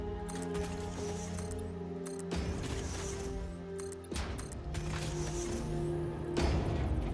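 Conveyor elevators in the factory game Satisfactory carry items up and down, giving a steady mechanical hum with layered tonal drones and repeated clanking, ratchet-like clicks throughout, fairly loud and continuous with no talk.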